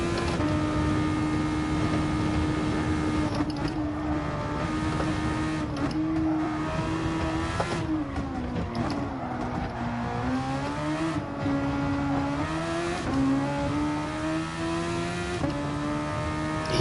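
Race cars lapping a track in the racing game GT Sport, a steady loud engine drone with rising and falling pitch as the cars shift and corner, continuous throughout with no talking.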